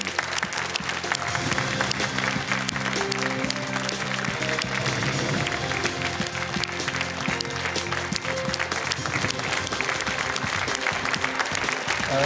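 A studio audience at a Miss Sport Ukraine 2009 awards broadcast applauds Olympic heptathlon champion Natalia Dobrynska, sustained loud clapping from a large crowd lasting throughout, with music and faint voices running underneath.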